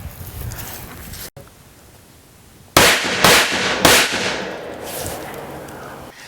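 A rifle with a 14.5-inch barrel firing 55-grain Gold Dot rounds lets off three sharp, loud shots in quick succession, each trailing off in an echo, with the bullets going through an exterior wall.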